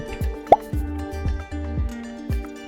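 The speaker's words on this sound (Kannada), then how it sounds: "ಈ ಮೆಡಲ್ 1 ಗಂಟೆ ಈ ಪೆಟ್ರೋಲ್ ಒಳಗಿರುತ್ತೆ. ಹಾಕ್ತಾಯಿದ್ದೀನಿ." A medal dropped into a container of petrol lands with a single sharp plop, surrounded by a few softer dripping, plopping sounds that recur through the short quiet stretch.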